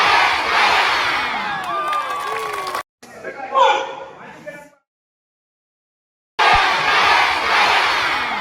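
A crowd at a karate athletes' gathering cheers and shouts loudly, a sustained roar broken by a short burst of whoops and then silence before the cheering surges back.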